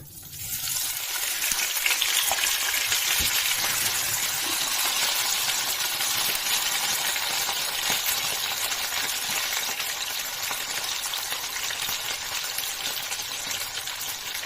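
Potatoes dropped into a hot, well-seasoned old pan and frying: a loud, close, continuous sizzle that flares up at once and holds steady, with faint stirring clinks and no talk.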